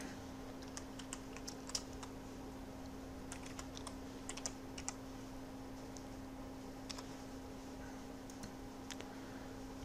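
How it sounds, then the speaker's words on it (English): Typing on a computer keyboard while entering a browser address during a software setup, with scattered light key clicks in short bursts over a steady low hum. "let me type that in here"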